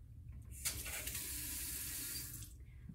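Water runs from a tap into a glass indoors, a steady hissing pour that starts abruptly, holds for about two seconds, then cuts off; faint and alone.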